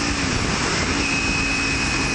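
Kawasaki Ninja 300 with a baffleless Screaming Demon slip-on exhaust at steady riding speed, a loud continuous engine drone with wind roar and a faint high whine, no voices.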